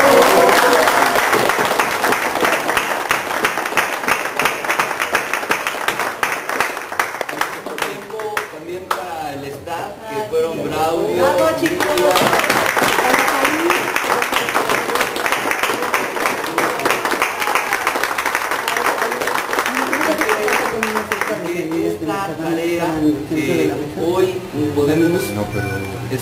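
An audience at an event's closing applauds in long, dense waves, loud and sustained, with a brief lull before the clapping swells again and voices mingle underneath.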